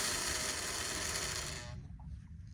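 A Singer 185J sewing machine winds a bobbin with a loud, steady mechanical whir that runs continuously, then cuts off abruptly near the end, leaving faint rattling.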